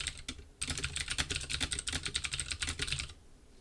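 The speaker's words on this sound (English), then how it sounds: "I'm ruining everything by typing more." Rapid typing on a computer keyboard, a close, quiet burst of clustered key clicks in an uneven rhythm, alone without talk.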